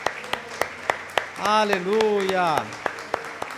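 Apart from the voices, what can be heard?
congregation applauding in church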